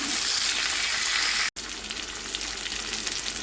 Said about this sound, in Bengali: 1/2 টিস্পুন হলুদের গুঁড়ো দিয়ে কুমড়ো আর আলুটাকে ভেজে নেব।